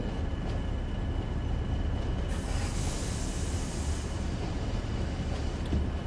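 A heavy British Rail freight train in Train Sim World 2 rumbles along steadily under a continuous hiss, the dense low roar holding constant throughout with no voices.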